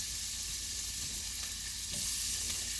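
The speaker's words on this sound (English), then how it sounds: "I'm going to add my dried potatoes here" Dried potatoes sizzle in a pat of butter in a hot pan beside pushed-aside vegetables, a dense, even frying hiss held close and continuous with no voices.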